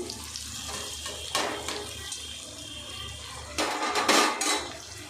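Bitter gourd pieces are tipped into a pan and stirred for a curry, giving a steady low sizzle with scraping, clattering bursts of the spoon against the pan that grow louder near the end.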